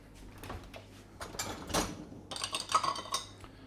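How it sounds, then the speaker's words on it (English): Dishes and utensils being put away in a kitchen with a tiled floor, with clinks, soft knocks and drawer or cupboard sounds coming in irregular bursts at close range, with no talking. "you're going to listen to the sounds of me putting some dishes away"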